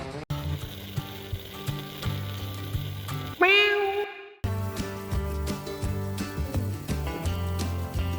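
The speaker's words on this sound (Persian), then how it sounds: "شاید ما یه گربه اینور داریم،" A single drawn-out cat meow cuts through outdoor chatter on a mountain near Isfahan, loud and upward-bending in the middle, with talk and clatter before and after.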